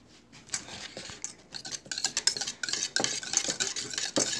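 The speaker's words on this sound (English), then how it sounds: "Scrape that onto the whisk. Okay, now mix that in." Green-coloured pudding being whisked in a bowl, a fast, continuous scraping and clinking of wire against the bowl, close and steady with short pauses, no talking.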